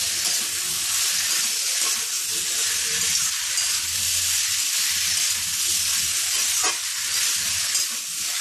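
Kochur loti (taro stolons) frying dry in a pan with no water or lid, giving a loud, continuous close sizzle and one brief scrape of stirring.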